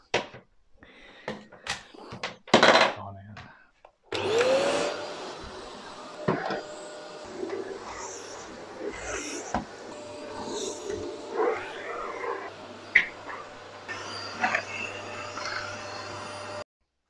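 Vacuum cleaner cleaning a bedroom in a UK hospital staff house, a steady close motor hum running after a few knocks and bumps, with handling clatter throughout.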